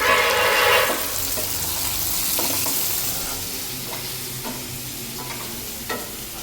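Ivy gourd (tondli) sizzles in a frying pan with a little salt, a steady loud hiss broken by several sharp scraping stirs of a spatula, heard up close with no talk.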